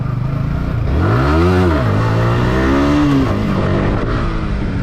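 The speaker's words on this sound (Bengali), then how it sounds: "সবাই লাইন মেনটেন করে বাইক রাইড করতেছি" Motorcycles riding in a line as a group near Rangamati, with a loud, close engine revving up and easing off in rising and falling pitch throughout, alone without talk.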